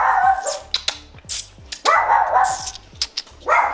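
A dog barks in short, sharp bursts with quick yips and whimpers between them, close by and loud, with no talk over it.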